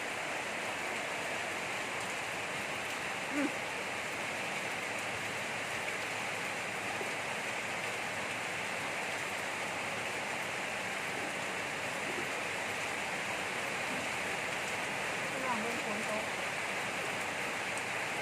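Steady, dense rain falling, an even broadband hiss that continues unbroken for the whole stretch.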